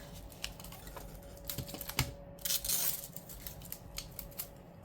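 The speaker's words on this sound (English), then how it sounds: "get some tape off of it first before throwing it away" Tape being peeled off a planner item, a series of soft close crackles and brief tearing rasps with a short louder strip pull, quiet and without talk.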